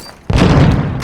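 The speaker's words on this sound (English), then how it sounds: "Throwing grenade." A grenade blast from the Warzone Mobile battle royale goes off close and loud after a brief quiet lead-in, a heavy boom that rolls on with a dense rumble and crackle for the rest of the second.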